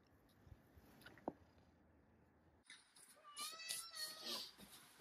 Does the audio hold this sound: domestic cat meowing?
yes